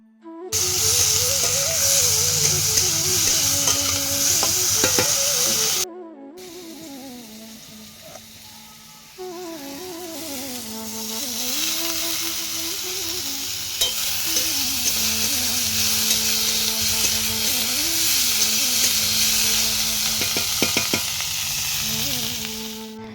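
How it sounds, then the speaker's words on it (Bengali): Neem leaves fry in a kadai with a steady, bright sizzle and hiss that continues for the whole stretch, with a brief break early on and a melodic tune playing faintly underneath. "এই নিম পাতা কটা আজকে ভাজা করব"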